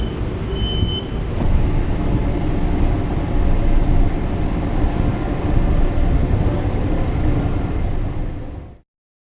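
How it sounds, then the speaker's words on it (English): A train pulls away from a platform, its loud, steady low rumble and rolling noise building and holding throughout before cutting off abruptly at the end. "Train is about to move."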